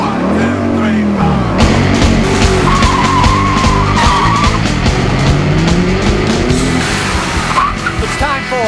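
A race car engine revs high and loud, pitch sweeping up and down, with tire squeals and skidding mixed in.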